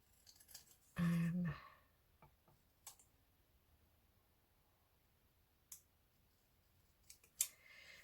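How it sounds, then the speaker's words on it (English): Scissors trim around a paper cut-out for a crafting project, giving one loud burst of snipping and rustling near the mic, followed by a few faint clicks and ticks in a quiet room. "I'm just going to trim around that because I can see it's still got some white on where I cut it out."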